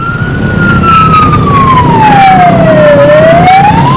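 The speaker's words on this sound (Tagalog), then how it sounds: "Ilang truck pa rin ng bumbero ang nakuna naming gumarating at lumalabas ng economic zone." A fire truck's loud wailing siren sweeps slowly down in pitch and then climbs again over a steady rumble of engine and road noise, with no talking.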